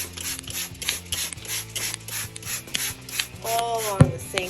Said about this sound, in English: I'm going to give a good spray of this spray